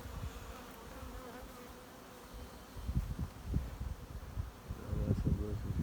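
Buckfast honey bees working at a hive in Brittany, a steady close buzzing drone throughout, with bursts of louder low wingbeat hum as bees pass near in the second half.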